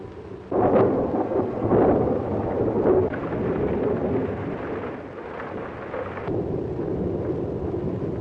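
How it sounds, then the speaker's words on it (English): Heavy thunder rolls and booms repeatedly through a stormy night, with rain hissing underneath, loud and close with several rumbling swells. "Lightning like black gun flashes. Thunder like heavy artillery."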